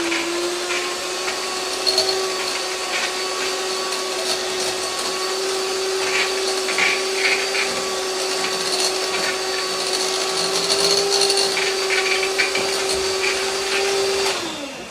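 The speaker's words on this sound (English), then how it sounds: "I use my little hand mixer for this instead of my big mixer" A small electric hand mixer blends mayonnaise and an onion mix, giving a loud, steady motor whine that runs unbroken for the whole stretch before winding down at the very end.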